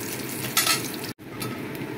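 Grated coconut fries in ghee and mustard oil in a pan and gets stirred, a soft continuous sizzle broken by a louder scraping stir and a brief clatter, close by with no talking.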